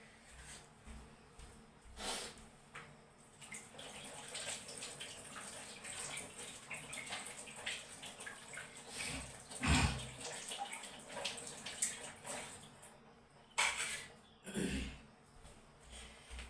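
Old onions rinsed under running water, a soft continuous splash and trickle with a few louder bursts of flow and clunks, faint and somewhat distant, with no talk.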